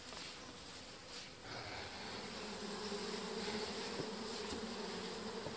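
Honeybees hum steadily around beehives in an apiary, a dense continuous buzz of many insects close by with no talking.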